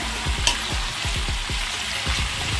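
Ivy gourd (dondakaya) pieces fry in a pan with a steady sizzle, while a spoon scrapes and stirs them in a quick repeated rhythm, close and fairly loud with no talking.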